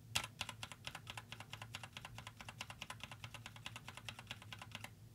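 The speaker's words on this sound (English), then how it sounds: "And red switch." Rapid continuous typing on a SnowFox 60 percent keyboard fitted with red mechanical switches, with quiet, evenly spaced keystrokes close by and nothing else heard.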